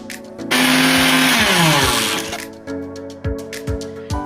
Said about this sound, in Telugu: ఉడికిన గోంగూరను కూడా అందులోనే కలిపి మళ్ళీ ఒకసారి మిక్సీ వేయాలి.